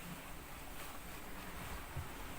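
Ocean waves and steady wind during an Atlantic sailing crossing in about 25 knots, with seas around 2 to 3 meters; continuous broadband rushing and wash, fairly loud and close, with no voices.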